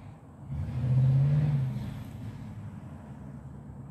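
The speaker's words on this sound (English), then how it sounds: "Pontiac GTO 71. Ready to roll, baby." A 1971 Pontiac GTO engine rumbles low, then swells in a single rev before easing back to a steady idle, heard at moderate distance with no talk.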